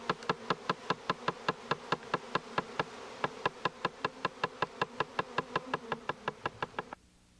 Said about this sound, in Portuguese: leves batidas na caixa atraem e orientam ainda mais as abelhas